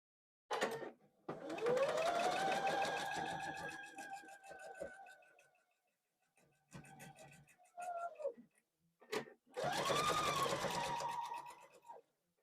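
Home sewing machine stitching fabric for small quilted ornaments, running in several bursts of varying length, its motor whine rising and falling in pitch, with short pauses and clicks between runs, close and loud.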